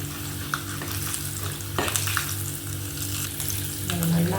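Fenugreek seeds and a dried red chilli fry in hot oil in a pan for a kara kuzhambu with garlic and small onions, a steady close sizzle with occasional stirring scrapes.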